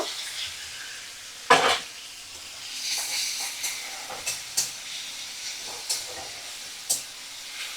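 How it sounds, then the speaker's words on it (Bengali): Prawns fry in a pan over a medium flame with a steady close sizzle, punctuated by several sharp utensil clacks and stirring knocks. "আর চিংড়ি মাছগুলো মিডিয়াম ফ্লেমে রেখেই ভাজা করব।"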